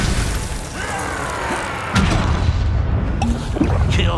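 A heavy blast from the Bombarda spell in Hogwarts Legacy lands about midway, a deep boom with crackling debris after it, over ongoing game noise with no speech.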